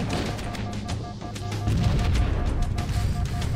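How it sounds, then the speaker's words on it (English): A rocket launcher fires in Halo: Combat Evolved, a blast that swells into a louder rumbling boom amid other gunfire and explosions in the game's battle. "I just launched a rocket at"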